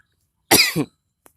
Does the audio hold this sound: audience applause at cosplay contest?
no